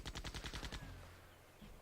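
Rapid video-game gunfire in Septerra Core as an enemy is shot: a burst of about eight evenly spaced shots, then a fading tail and a faint low tone, with no speech.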